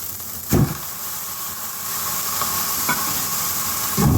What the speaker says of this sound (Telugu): ఇప్పుడు కోసి పెట్టుకున్న టమాటా ముక్కలు వేస్తున్నాను.